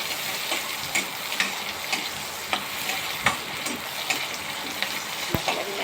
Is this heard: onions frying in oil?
yes